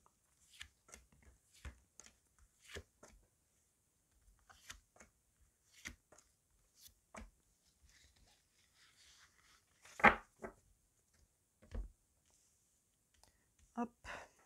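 Tarot cards are handled and shuffled for a monthly Capricorn reading: soft, scattered card flicks and taps, close and quiet, with a louder burst near the end and faint, sparse speech in between.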